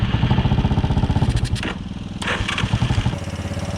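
The small gas engine on a Power Wheels Ford F200 truck sputters loudly and close by, with an uneven, pulsing putter that dips and surges as it struggles to keep running.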